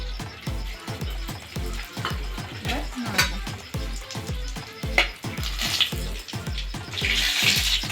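Bay leaves and whole garam masala hit hot oil, giving a busy crackle punctuated by a rapid run of sharp knocks and scraping clatters, with a brighter hiss building near the end.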